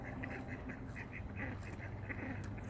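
Ducks quack faintly in short repeated bursts outdoors, distant and soft over a low steady background rumble.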